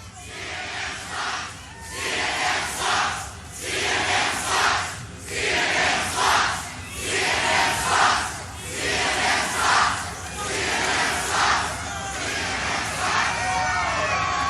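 A massive rally crowd roars and cheers continuously, with rhythmic surges of shouting swelling and fading every second or so, loud and dense throughout, without talk over it.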